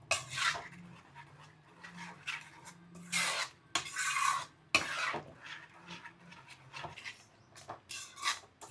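Fish curry masala of tomato and onion being stirred in a pan for a mango fish curry. Close, irregular scraping strokes and soft clatter of the spoon against the pan repeat throughout, with no speech.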